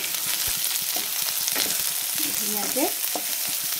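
Sliced onions, beans and carrots fry in a pan for egg Schezwan fried rice, giving a dense, steady sizzle with occasional spatula scrapes, close and loud throughout, with no talking.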